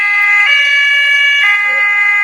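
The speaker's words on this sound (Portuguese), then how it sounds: "A ambulância passou." An ambulance siren sounds loud and close as it passes, a steady wailing electronic tone with a slight pitch shift midway, alone without talk.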